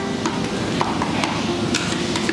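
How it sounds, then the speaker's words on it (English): A whisk scrapes and taps around a bowl of cream cheese mousse mixture in quick, steady strokes, close and moderately loud. "So just going to give this a final whisk"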